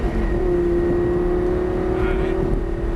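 Car engine on a race track at Motorsport Ranch droning steadily as it accelerates out of a corner, a sustained loud hum from inside the cabin with an instructor's voice talking over it.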